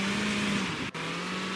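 A 2000 Honda CR-V in a Roblox driving game holds a constant speed, giving a steady, even engine drone with a brief dropout partway through.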